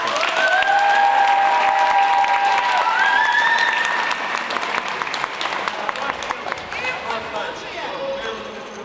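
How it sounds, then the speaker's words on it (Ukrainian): A crowd applauds a youth team at a Ukrainian championship event, the clapping dense and sustained under a loud, live hall ambience with whistle-like tones and possible voices mixed in. "Аплодисменты."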